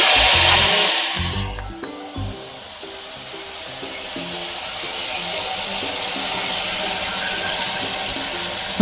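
Spices tipped into hot oil for a hilsa fish curry hiss loudly at first, the sizzle then settling into a steady frying crackle that continues at close range.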